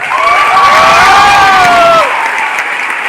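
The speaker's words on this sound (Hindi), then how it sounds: "सर के लिए इतनी कम तालियां तो मैं एक्सपेक्ट नहीं कर रहा था" Audience at a coaching institute's faculty event applauds and cheers loudly, with whistles and shouts over dense clapping that swells and then drops back after about two seconds.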